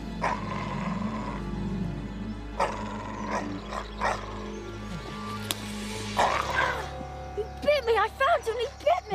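An injured dog whimpers and yelps in several short, high, strained bursts, the cries thickening toward the end. People talk nearby over a low background hum.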